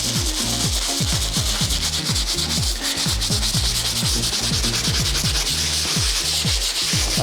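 Jordan sneakers scrubbed with a brush during cleaning: fast, steady back-and-forth rubbing strokes, close and loud, continuing without pause and with no talking.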